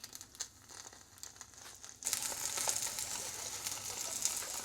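Tofu steaks frying in a pan: a quiet crackle that suddenly jumps to a louder, steady sizzle partway through and holds, close and continuous with no talking.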